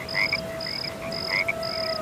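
Frogs croak in a steady repeating pattern of short, evenly spaced calls, faint and distant against a quiet background, with no voices.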